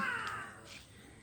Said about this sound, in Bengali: কাকগুলো ডেকে বেড়াচ্ছে